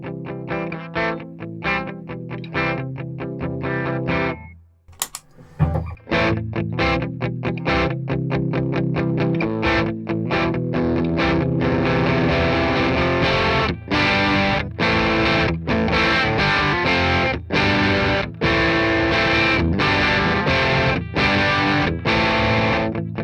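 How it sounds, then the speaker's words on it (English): Electric guitar played through a Hello Sailor Effects Kossof Drive overdrive pedal into a slightly driven amp, loud and continuous with crunchy distorted chords and picked notes, a brief pause near the start before the riff kicks back in. "we're just going to demo the Kossof Drive"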